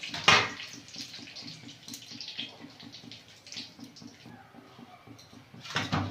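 Whole spices, black cumin, cardamom, cloves, cinnamon and a bay leaf, frying in oil in a wok in a village kitchen. They give off a soft, steady sizzle and crackle, with a louder splash of spattering near the start and again at the end.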